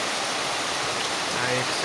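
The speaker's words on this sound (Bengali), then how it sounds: "প্রচণ্ড জোরে বৃষ্টি নেমেছে" Heavy rain pours down in a steady, dense rushing hiss that stays even and fairly loud for the whole short stretch, with no clear voices.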